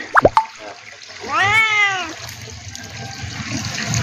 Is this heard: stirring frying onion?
no